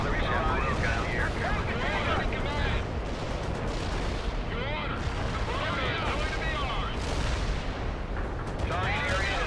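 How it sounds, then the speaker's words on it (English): An artillery barrage in the World in Conflict video game, heavy booming explosions and rumbling detonations rolling continuously, loud and dense, with voices speaking over the bombardment. "Artillery barrage is down here."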